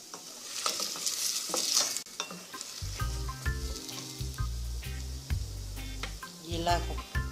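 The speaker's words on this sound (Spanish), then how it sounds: "En una cacerola con aceite sofreímos la cebolla." Onion sautéing in oil in a saucepan, a steady close sizzle with stirring scrapes, joined after a few seconds by a low humming tone underneath.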